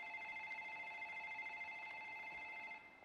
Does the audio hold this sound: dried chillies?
no